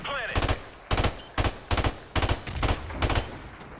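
Rapid bursts of automatic gunfire in the video game Modern Warfare Remastered, on the Bog map: about seven sharp, loud rounds in a steady, quick rhythm, heard close with no talking.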